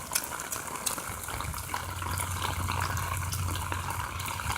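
Rainwater pours through puddles and little streams during a thunderstorm, a continuous close gush and trickle with scattered sharp drips and splashes on top.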